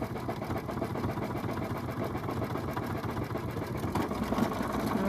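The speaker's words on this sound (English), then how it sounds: "last stitching, doing that decorative stitch on top of our satin" A sewing machine runs continuously, stitching a decorative pattern onto satin with a rapid, even mechanical whir and patter, close and moderately quiet, with no talking.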